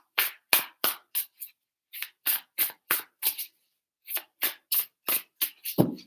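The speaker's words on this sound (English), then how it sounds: "Three shuffles." Tarot cards shuffled by hand in a quiet room: a rapid run of crisp riffling bursts, a short pause, then another quick series, ending with a soft thump as the deck settles.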